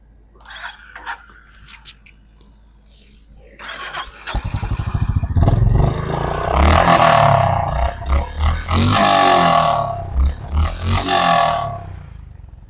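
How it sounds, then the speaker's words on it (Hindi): Exhaust of a Honda CB350 H'ness motorcycle: a quiet idle rises into a loud engine start and deep rumbling revs, with several strong throttle blips rising and falling, close by with no talk. "तो कुछ इस तरह का एग्जॉस्ट साउंड मिलता है आपको विद द CB350 हाइनेस"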